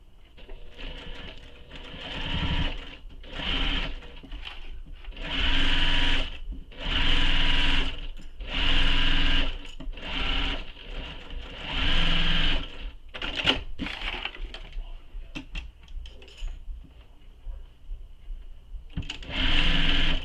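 A sewing machine stitches down the sides of a fabric tote bag in repeated loud bursts of motor whir, each run lasting a second or two, separated by short pauses, with a final burst after a longer quiet gap.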